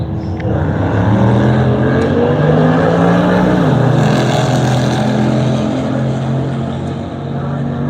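A muscle car launches and races down a drag strip, its engine roaring loud and close with a rising, steady drone, a shift midway, then a sustained high-revving pull.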